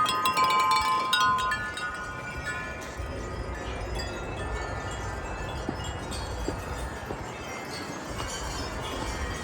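Outdoor wind gusts on a windy day roar as broad, steady buffeting noise against the microphone, loudest at the start and then holding at a constant level.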